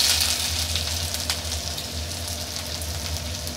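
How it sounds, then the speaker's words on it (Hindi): Onions frying in hot oil on a high flame, a loud continuous crackling sizzle with occasional sharper pops, close up and steady throughout, with no talking. "सबसे पहले हम इसमें प्याज डालेंगे"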